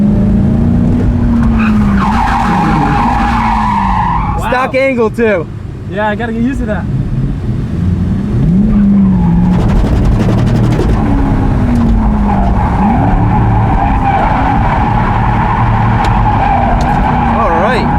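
A drift car skids around a race track, its engine roaring loudly throughout, with long squealing tire slides and rising and falling revs in several bursts, while people talk inside the car.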